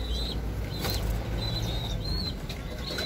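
A tossed pigeon flaps its wings in short bursts close by, with soft bird calls over a steady outdoor background.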